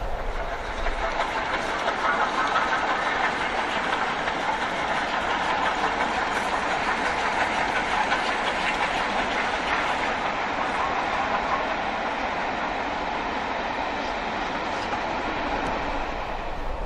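A passenger train runs on the rails between Crewe and Shrewsbury, heard from on board as a steady loud rumble with rhythmic wheel clatter over the joints throughout, with no one talking.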